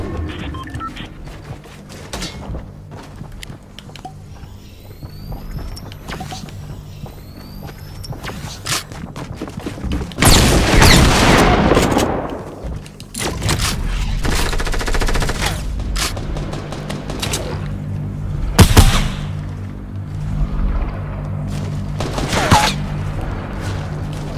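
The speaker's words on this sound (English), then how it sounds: "I don't know how many rockets this dude has." Rocket blasts and rapid gunfire from a Fortnite match burst in repeated loud volleys, with a heavy explosion midway, footsteps and mechanical clicks between the shots.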